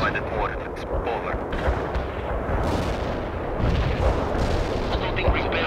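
Continuous mortar and artillery fire in a war video game, a dense rumbling roar of booms and blasts layered without pause, loud and steady throughout.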